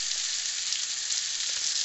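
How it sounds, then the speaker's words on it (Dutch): Oil sizzling in a frying pan at home, a steady, close hiss with faint crackles and no voices. "olie in de bakpan doen"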